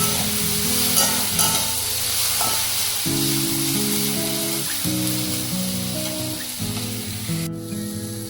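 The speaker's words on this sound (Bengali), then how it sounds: "আলুটা দেখুন ভাজা ভাজা হয়ে গেছে।" Potatoes fry in a hot pan with a continuous bright sizzle and hiss that holds steady throughout, while music plays in the background.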